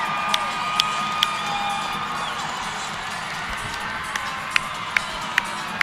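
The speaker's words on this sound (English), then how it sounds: "So you can hear the roar of the crowd." Crowd roar filling an arena before a girls high school state tournament basketball game at the Sevier Valley Center, a steady dense murmur and cheering with sharp intermittent bangs or claps cutting through.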